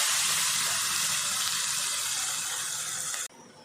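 Ground small-onion chutney paste hits hot oil with curry leaves in a pan, giving a loud, steady hiss of sizzling that drops off sharply near the end.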